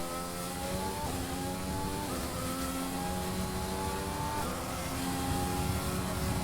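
An F1 race car engine in the F1 2020 video game revs steadily while lapping a track. A constant whining drone climbs through the gears, with a brief dip at each shift. It runs alone, without talk.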